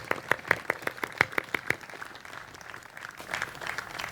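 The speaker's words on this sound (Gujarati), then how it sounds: "એને એકવાર જોરદાર તાળીઓથી આપણે વધાવીએ" Audience at a live recorded community event clapping: a short run of evenly spaced, distinct hand claps that fade, then a softer scattered patter of applause from a small crowd.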